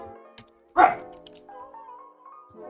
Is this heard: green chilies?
no